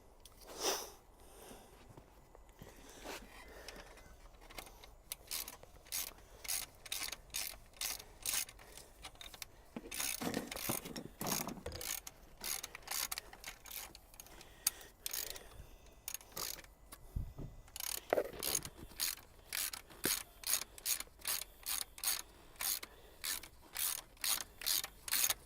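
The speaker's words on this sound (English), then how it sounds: "I think what I need is the ratchet." A ratchet wrench clicks in repeated runs of fast pawl ticks while a centre stand is mounted on a Honda VFR800 motorcycle, close and quiet, with pauses between strokes and some handling noise.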